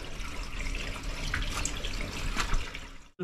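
Dirty water from a garden carp pond drains through an outlet pipe into a drainage sewer, a steady close rushing and splashing flow that holds constant for about three seconds before cutting off, with no voices.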